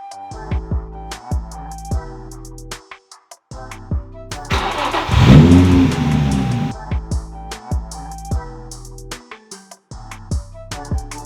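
Nissan 350Z engine being driven briefly while turned around, a mid-pitched engine surge and rev rising in the middle, set among clicks and knocks of nearby work with quieter stretches before and after.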